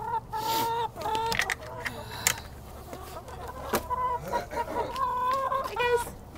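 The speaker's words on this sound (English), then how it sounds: "These are John's parents' chickens." Backyard hens cluck close by in steady, overlapping bursts. A few louder squawks stand out along the way.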